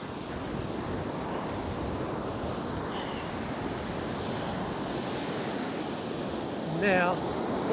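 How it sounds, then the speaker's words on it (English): Wind blowing in from the sea across a beach, a steady broad roar of wind and surf pressing on the microphone throughout, with a short high chirp near the end. "the wind is blowing from the sea onto the land"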